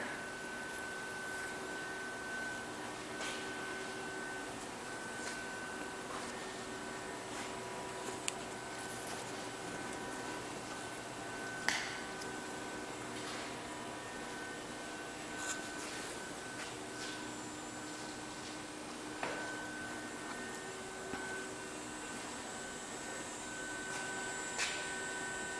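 A Showmark superconductor magnet winding machine runs with its motor turning in reverse, giving a steady mechanical hum and whine with tonal lines, punctuated by occasional faint clicks and ticks, heard close in a room without talk.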